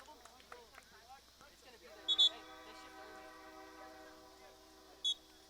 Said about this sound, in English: Love the sound of the train coming by the campus here at Austin College.